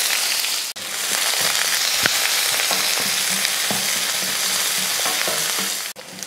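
Onion, garlic, mustard seeds and curry leaves sizzle and fry in hot oil in a pan, a dense, continuous close crackle with occasional stirring scrapes throughout.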